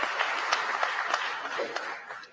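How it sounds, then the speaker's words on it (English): An audience at a speech on a presidential tour in Freetown applauds with a dense, continuous wash of clapping that holds steady for a couple of seconds. "They deserve an applause."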